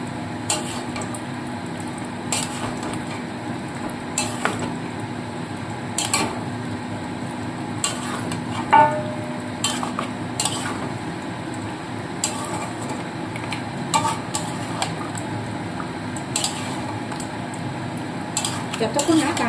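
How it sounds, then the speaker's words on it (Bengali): Ginger and garlic being sautéed in a pan for mutton korma, with a low sizzle under repeated metallic clinks and scrapes of a spoon against the pan. "যতক্ষণ না কাঁচা গন্ধটা যায় ততক্ষণ কিন্তু আদা রসুনটা ভালো করে কষিয়ে নিতে হবে।"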